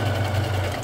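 Sewing machine stitching through paper, a brief steady motor hum with a rapid even needle chatter, close and moderately loud, no voices.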